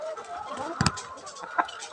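Chickens cluck in short bursts close by, with a louder squawk near the middle and another near the end, over a busy background of murmuring voices.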